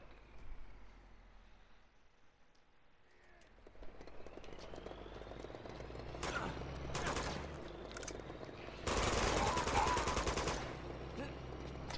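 Gunfire from a weapon in the video game Uncharted 2: Among Thieves, heard as short automatic bursts and a sustained loud volley toward the end over a low rumbling background, with occasional voices.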